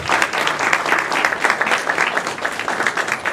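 Steady audience applause at a Norristown parents and students meeting, dense and continuous with many hands clapping at once, fairly loud and close throughout with no speech over it.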